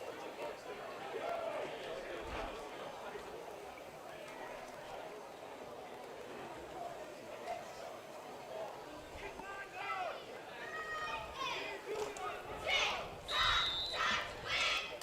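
Crowd noise at a high school football game fills the stands, a distant murmur of cheering and shouting that swells toward the end, with commentators talking over it.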